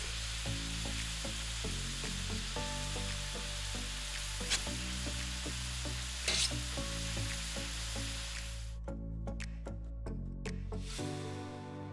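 Okonomiyaki, a savory cabbage pancake with pork belly, frying on a hot griddle at a Japanese eatery in Minami, giving a steady close sizzle with scraping and stirring clinks on top; the sizzle drops away near the end.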